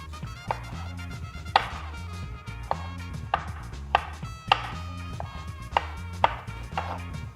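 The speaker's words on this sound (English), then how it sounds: "now we're going to want to cut these tomatoes in some pretty small pieces" A knife chops tomatoes into small pieces on a cutting board, sounding as about a dozen distinct, fairly even knocks at a steady rhythm, close and clear against a quiet background.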